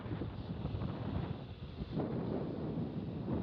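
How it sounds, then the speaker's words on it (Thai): Cold winter wind blows hard around a house, a continuous roaring buffet across the microphone that dips briefly and then surges again. "ต้อนรับลมต้อนรับลมหนาวครับผม"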